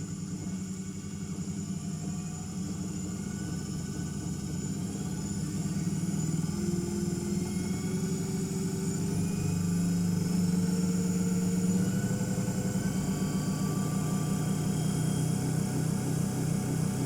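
A DC shunt wound motor on a lab test bench speeds up gradually toward its rated speed, giving a steady mechanical hum whose pitch rises and levels off, continuous and fairly close throughout.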